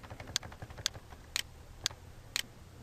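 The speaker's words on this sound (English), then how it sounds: "I know you're hearing that god-awful clicking sound" A computer gives a faint, steady clicking, five crisp clicks evenly spaced about half a second apart over a low hum, with no voices.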